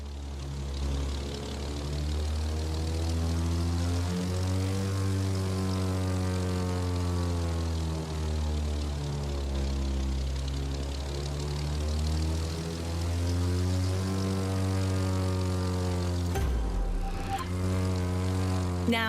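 Propeller plane in the video game The Crew 2 droning steadily in flight, a loud continuous engine hum with slowly shifting pitch for most of the stretch, ending in a sudden swoosh and pitch drop near the end.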